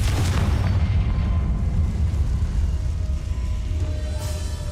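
A Confringo fire spell explodes in the Hogwarts Legacy video game, a heavy, booming low rumble that hits at the start and rolls on loudly, slowly easing off.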